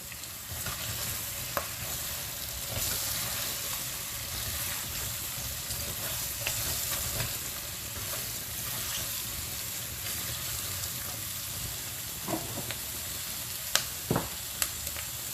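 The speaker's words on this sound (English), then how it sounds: "I'm going to add the courgettes that I have sliced. Mix it." Sliced courgettes are mixed into fried powdered spices in a pan, giving a quiet, steady sizzle with scattered clicks and stirring scrapes and no talking.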